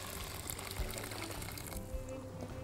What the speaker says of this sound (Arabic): أغلف الرز بالزيت والزبدة وأقوم نازلة عليه بالمية السخنة